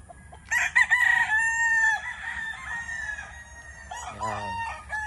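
A white Kelso gamefowl rooster crows close by, loud and clear, one long drawn-out crow followed by a shorter, rougher call near the end.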